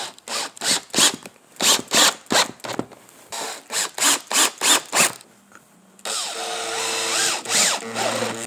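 A power drill drives screws into the wooden tiers of a Christmas tree dessert stand in short, repeated bursts with brief pauses between them, then one longer steady run, close and fairly loud.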